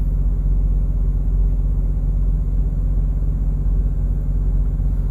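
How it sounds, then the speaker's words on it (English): Steady low engine rumble at a truck stop, a continuous idling drone close by with no talk and little change over the short stretch. "I'm sitting at a truck stop."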